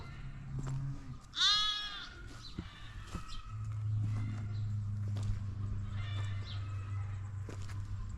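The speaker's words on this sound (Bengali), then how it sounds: "এই ছাগলটা চেয়ার দেখছেন কত সুন্দর দেখেন কত বড় সাইজ" A goat in Taif, Saudi Arabia, gives one clear, loud bleat against a steady low hum, followed by fainter scattered animal sounds and light shuffling.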